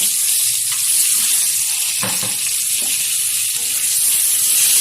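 Peeled boiled eggs fry in oil with turmeric and salt, giving a steady, close, loud sizzling hiss that runs the whole time, with a few soft clunks of the eggs shifting in the pan.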